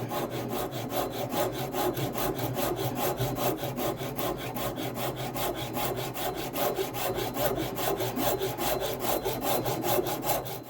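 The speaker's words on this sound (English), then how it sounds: "Start cleaning it up with the rasps now." A wood rasp works a charred Collins Connecticut axe handle, giving a steady, continuous scraping rasp with rapid repeated strokes, close and fairly loud, with no talking.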